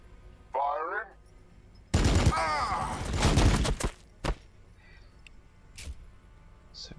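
Gunfire in the Warhammer 40000 Battlesector video game, set in a Blood Angel versus Blood Angel multiplayer match: a loud broadband burst of shooting lasting about two seconds, followed by a few sharp single cracks and fainter distant shots.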